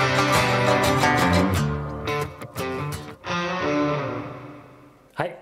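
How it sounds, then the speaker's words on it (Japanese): Music drenched in reverb, each note washing into a lingering, roomy tail that blurs into the next, like sound filling a large tiled hall. "はい、次にリバーブ。"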